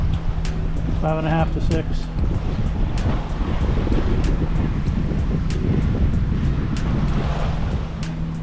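Steady wind rushes and waves wash around a sailboat cruising in mild conditions with 10 to 12 knots of wind, loud and continuous, with a brief voice speaking over it.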